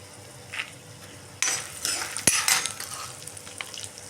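Peanuts, dried red chilies and coriander seeds roast in a pan, sending up a soft dry sizzle with scraping stirs and a sharp clink of a spoon against the pan partway through, close and moderately loud.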